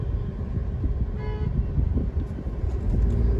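Cabin of a Tata Tiago CNG car driving with the air conditioning on, a steady low engine and road rumble with a brief faint tonal sound midway, no talking.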